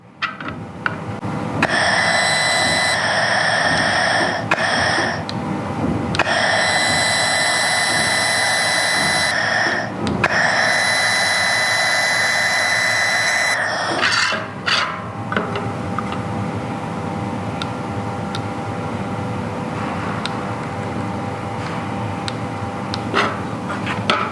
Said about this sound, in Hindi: तो दोस्तों हम इस प्रोफाइल को अपनी 2 mm की शीट के ऊपर वेल्ड करेंगे।